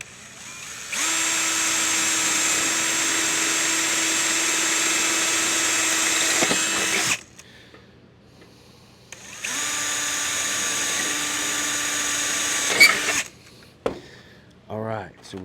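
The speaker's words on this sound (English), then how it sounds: "we drilled 2 holes" A power drill bores two holes through sheet metal for a tool holder, two sustained loud whining runs of about six and three and a half seconds separated by a pause, each ending with clicks and handling noise.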